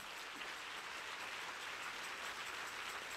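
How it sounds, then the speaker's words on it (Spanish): Steady, dense applause from a church congregation during a sermon, a continuous hiss-like wash of many hands clapping at even volume throughout. "si usted va a darle al Señor un aplauso, hágalo mejor"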